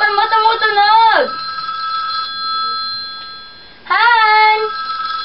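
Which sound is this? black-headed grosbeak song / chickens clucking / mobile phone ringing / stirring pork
mobile phone ringing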